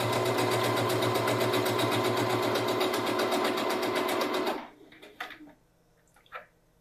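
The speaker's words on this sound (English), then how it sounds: "I'm sewing over my seam allowances" A sewing machine stitches rapidly and steadily over the seam allowances of a drawstring bag, a close, even mechanical whir that runs for several seconds, then stops, followed by a few quiet handling clicks.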